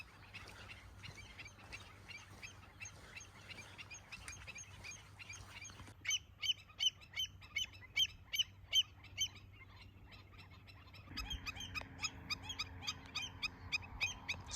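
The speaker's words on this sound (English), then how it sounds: "So many birds." Shore birds along the Great Salt Lake call in a dense chorus, with repeated sharp chirps and squawks, some in quick rhythmic bursts, fairly faint and at a distance over quiet open air.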